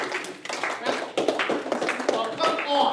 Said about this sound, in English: All right, give her a round of applause.